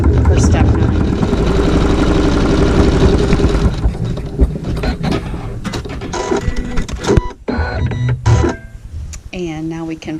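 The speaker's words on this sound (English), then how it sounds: "And now we're going to stitch our seam for step 9." A sewing machine stitches a fabric seam in a fast, steady mechanical whir for several seconds, then breaks into shorter bursts and handling noises as the stitching stops, with a voice speaking briefly near the end.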